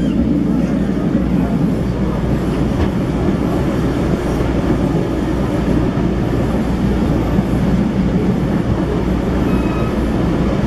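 A passenger train pulls into Colatina station with a steady, loud rumble and faint wheel clatter that continue throughout, heard close from on board.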